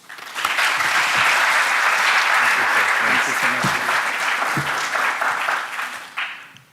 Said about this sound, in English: Can everyone please give a warm round of applause?